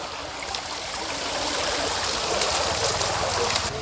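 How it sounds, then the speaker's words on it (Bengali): Steady rushing splash of falling water from a park fountain, close by and fairly loud, with no voices. "প্রথমে পানির ফোয়ারা পড়ছে"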